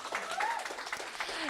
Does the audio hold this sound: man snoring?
no